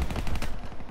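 Rapid full-auto bursts from the Razorback SMG in Call of Duty Black Ops 3, a fast stuttering chatter of shots that fills the second with no talk over it.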